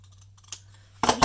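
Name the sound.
cutting paper copies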